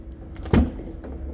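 A Land Rover Defender 130 with a 300TDI turbo diesel has its rear door opened, giving one short, close clunk over a low background hum, with no talk.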